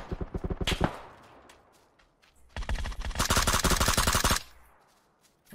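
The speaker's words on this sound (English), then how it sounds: "I'm getting shot from behind as well." Video game gunfire: a quick burst of automatic shots, a lull, then a longer, louder sustained volley of rapid rounds that cuts off abruptly, with no voices over it.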